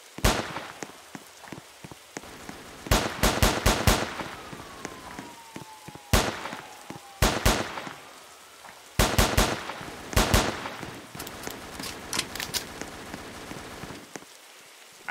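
Bursts of video game gunfire in an emergency response shooter, sharp cracks in clustered volleys of three to five shots separated by pauses, fairly loud and alone with no talk.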